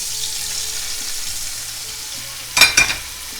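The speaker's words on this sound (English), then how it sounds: "Our garlic is just starting to get golden brown. Now we're going to go back in with our cabbage." Chopped cabbage and golden garlic sizzling in a pan, a steady frying hiss that ends in a couple of sharp clattering bursts as the food is tossed, with no one talking.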